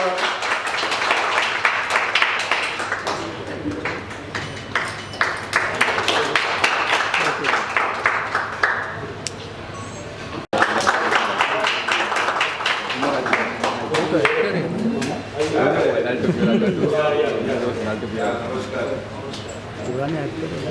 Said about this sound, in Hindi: Please give a big clap to her.